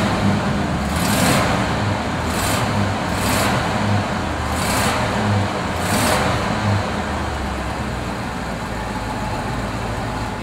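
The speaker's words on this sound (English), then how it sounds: "it's also got a nice little sound now because we put the dual exhaust on." A 1985 Cadillac Eldorado Biarritz convertible with dual exhaust idles with a steady, low, throaty rumble, broken by a few soft whooshing bursts in the first half.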